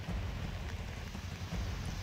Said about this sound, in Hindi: जहां पर पिछले 48 घंटों से लगातार बारिश हो रही है